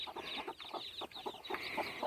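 Backyard hens clucking in short repeated bursts, fairly faint and close, with no talk.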